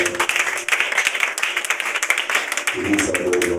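A church congregation applauding with steady rhythmic clapping, voices singing and calling out over the claps throughout.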